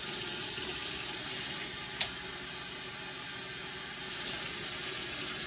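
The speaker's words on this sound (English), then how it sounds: "I think I want to add another cup of water just to be on the safe side." Cup of water poured into a gumbo pot on the stove, a steady splashing pour that pauses briefly mid-clip, with a small clink, then resumes.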